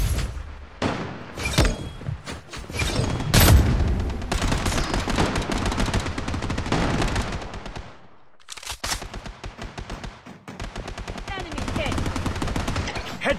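Rapid automatic gunfire and bursts of shots fill a squad-based military shooter game battle, dense and loud throughout, with a brief lull before the firing resumes, under occasional radio-style game voice callouts.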